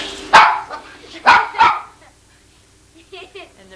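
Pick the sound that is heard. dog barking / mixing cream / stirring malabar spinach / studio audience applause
dog barking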